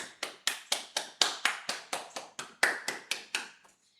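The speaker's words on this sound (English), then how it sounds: "I feel everyone deserves a clap for themselves." One person claps their hands about fifteen times in a steady, even rhythm, close and crisp, with the last claps softening before quiet.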